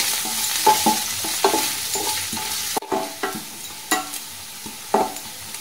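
Finely chopped ginger frying gently in a pan in a home kitchen, with a steady soft sizzle and repeated scraping stirs from a spatula, close and without talk.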